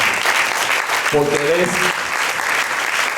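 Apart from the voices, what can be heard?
applause for the Lord in church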